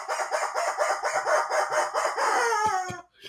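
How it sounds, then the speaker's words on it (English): A rubber chicken squawks in a long, loud, rapidly pulsing strained screech that ends in a few sharp clicks, heard alone and close up. "And the rubber chicken says,"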